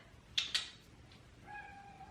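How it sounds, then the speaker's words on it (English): Indoor cats make two quick, sharp yowls close by, followed after a pause by a longer, drawn-out meow, with no one talking. "These cats are so annoying."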